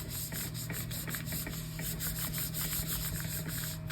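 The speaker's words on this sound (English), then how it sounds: "Being sure to rub around all our little pieces of yarn, getting all the spaces cleaned." Paper rubbed by hand over a gelli printing plate inked in Payne's Gray, worked around small pieces of yarn, gives a steady, close dry scuffing and brushing that continues without a break.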